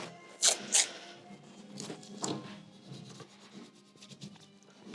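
Masking tape being burnished down by rubbing during a model build, heard as short close scratchy strokes, two sharper swipes early then softer intermittent rubbing.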